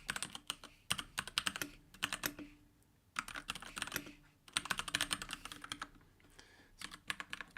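Fast, close typing on a computer keyboard comes in bursts of clattering keystrokes, separated by short pauses.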